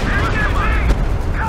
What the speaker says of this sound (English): this time it's the Katusha and the Stuka firing at once